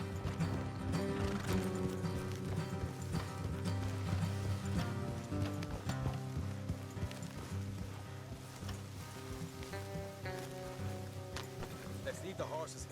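Horse hooves clip-clopping in Red Dead Redemption 2, an Old West game, a steady plodding beat under a layer of music and ambient game sound, with speech over it at times.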